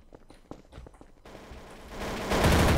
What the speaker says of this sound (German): Wir schießen AK.